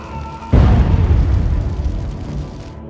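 A bomb goes off in a film with a sudden, heavy deep blast that rolls on and slowly fades over a couple of seconds.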